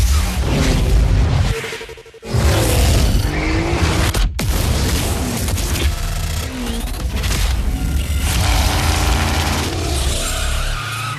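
Car sound design: tires skid and squeal in long, loud screeches alongside revving engines and a few sharp impacts, one brief dropout near the start, dense and close with no talking.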